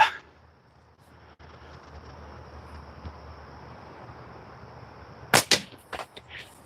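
A slingshot fired outdoors gives a few sharp snaps and slaps near the end, after a long stretch of faint background quiet.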